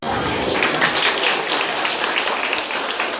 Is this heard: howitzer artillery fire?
no